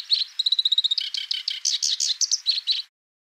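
A black-browed babbler sings a lively, high run of chirps, opening with a quick repeated trill and then varied whistled notes, clear and close, before stopping.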